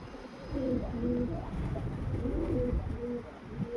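A white pigeon, recently recovered from illness, cooing in low repeated soft calls, close and quiet with a faint background hum.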